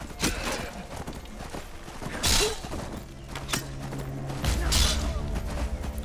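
Hooves clop at a trotting pace alongside scattered thuds and clanks in the video game Skyrim, with a low sustained hum in the background.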